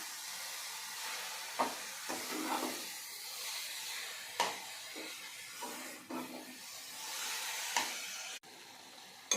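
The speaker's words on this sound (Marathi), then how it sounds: "आता परत साखर मेल्ट होईपर्यंत छान परतून घ्यायचे" Grated carrot halwa being stirred and fried with melting sugar in a pan: faint soft sizzling with intermittent scraping strokes of a spoon at an irregular rhythm, close by, with no voices.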